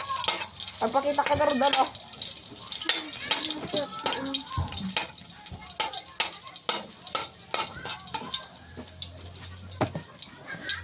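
Garlic sautéing in a home kitchen pan, a steady sizzle with stirring clatter and occasional drips, running under close conversational voices throughout.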